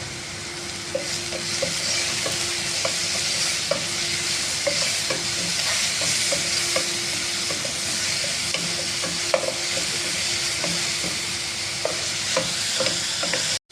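Onions and garlic sautéing with salt in a pan sizzle continuously, with frequent light spatula scrapes and taps, close and even throughout with no voices.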